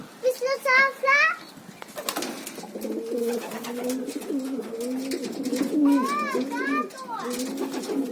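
Homing pigeons coo in soft, rolling calls near the microphone, mixed with other bird chirps and flutters, while someone talks over part of it.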